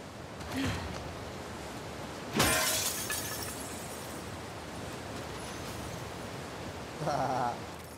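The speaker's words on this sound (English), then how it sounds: "I broke the glass first." Glass shatters in The Last of Us Part II: a sharp crash rings out midway, with a smaller crack before it and another brief crunch near the end, all over a quiet ambient background.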